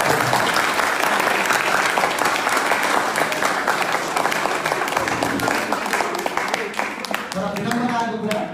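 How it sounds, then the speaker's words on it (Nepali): A crowd of listeners breaks into sustained, dense applause for a speaker, loud and continuous throughout, with clapping fading slightly near the end. "तालीले स्वागत गर्नु"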